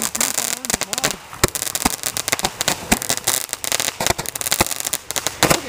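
Backyard fireworks going off, a rapid series of sharp cracks and pops with crackling bursts, loud and close, continuing through the whole stretch with people's voices mixed in.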